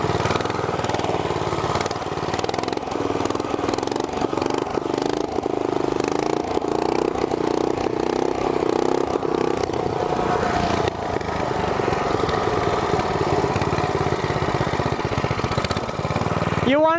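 A small 212 engine on a go kart or mini bike runs steadily nearby, a loud continuous buzzing drone that rises and falls slightly outdoors, with voices talking over it.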